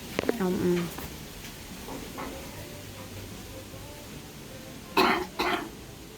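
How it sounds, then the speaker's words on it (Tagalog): Two sharp coughs close together near the end, after a brief throaty sound at the start, over a faint hissing background. "Maganda ang ubo ko, hindi ako nahirapan"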